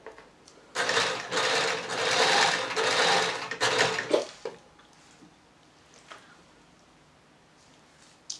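A sewing machine stitches the fabric of a box pleat skirt in a steady, close whirring run of about three seconds, then stops, followed by a few soft clicks and handling sounds.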